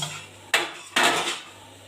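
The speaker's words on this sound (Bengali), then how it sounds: "আমি এবার ঢাকনাটা খুলে দেখব" A pot lid is lifted off steamed carrot-flower pitha, giving two sharp metallic clanks half a second apart, each followed by a brief hiss of escaping steam over a quiet, humming kitchen background.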